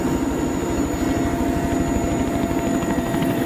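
Helicopters hover overhead with a continuous rhythmic rotor thump and droning engine, loud and steady throughout until the sound cuts off abruptly at the end, with no talking.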